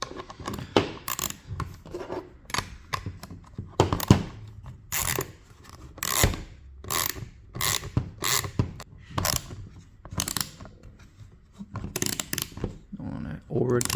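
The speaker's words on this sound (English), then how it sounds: "I'll use the 10 on the 10 key on this side and the ratchet on this side" A hand ratchet works 10mm bolts on aftermarket PowerMadd handguards fitted to a Can-Am Outlander XMR 1000R ATV, giving bursts of quick close clicking and metallic turning with short pauses, while someone talks in between.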